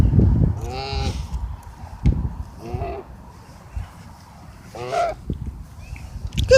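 A goose honks and calls several times at close range in a yard, with brief harsh cries spaced out between low rumbling background noise, while a person speaks softly.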